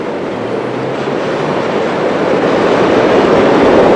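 A westbound Canarsie Line subway train bound for 8th Avenue starts up the hill, a loud, continuous rolling rumble that slowly builds with a faint clickety-clack of wheels, and no voices.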